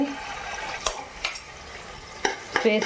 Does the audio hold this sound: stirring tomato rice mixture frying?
yes